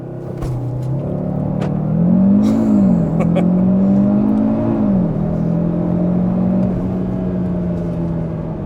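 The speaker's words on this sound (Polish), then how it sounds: "sprawdźmy jak ten samochód przyspiesza ze startu zatrzymanego" Cupra Formentor VZ5 with its 2.5 TFSI five-cylinder launching from a standstill, the engine note climbing through several upshifts, heard loud from inside the cabin.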